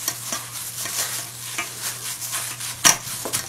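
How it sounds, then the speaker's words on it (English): Butter and sugar being mixed for apple brownies, a steady scraping stir with soft rhythmic strokes, close and fairly loud, one sharper clack near the end, no talking. "Took about 4 minutes just to kind of mix this butter and sugar around."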